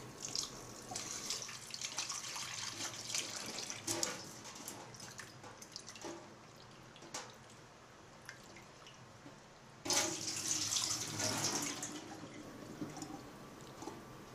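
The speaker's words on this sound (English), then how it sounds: "you have to rinse it about 2 to 3 times till water turns clear" Running tap water splashes steadily into a sink while rinsing flour, with a brief louder gush near the end.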